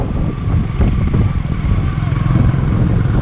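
A motorcycle rides along a mountain road between Jomsom and Mustang, its engine droning steadily and close by with wind buffeting. The riders' voices are faintly mixed in.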